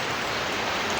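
Monsoon rain pouring down as a dense, continuous hiss, loud and close, with no voices over it.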